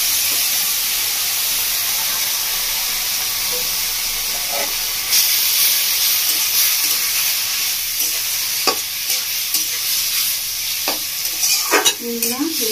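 Grated radish juice tipped into a hot pan with rohu fish head for mulo chechki, a steady steaming hiss that swells into louder sizzling and stirring scrapes with sharp clicks toward the end.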